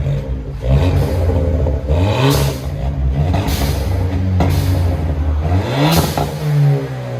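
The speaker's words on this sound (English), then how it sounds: "Ford Fiesta ST. This is what it sounds like before." A Ford Fiesta ST's stock exhaust revs repeatedly, rising and falling in loud, close throttle blips with a deep rumbling idle between.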